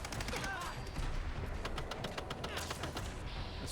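Rapid, continuous machine-gun fire from a Madsen M50 in Fallout 4, a dense, loud stream of closely spaced shots that barely pauses.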